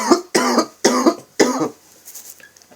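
Three harsh coughs in quick succession, close and loud, followed by a softer fourth cough and then near silence.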